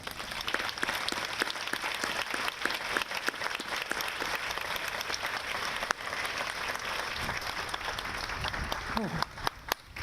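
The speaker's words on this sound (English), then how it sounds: "Let's give him a round of applause." Applause for a sergeant at a Memorial Day ceremony, sharp individual claps over a general patter of many hands, sustained for about ten seconds with a few voices murmuring underneath.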